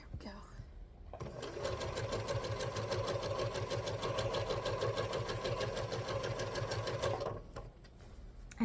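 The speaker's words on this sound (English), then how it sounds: "just keep sewing it down, keeping that allowance" Sewing machine stitching seams on a quilt top, starting after a brief pause and holding a steady, close, rhythmic mechanical chatter for about six seconds before stopping, with no talking.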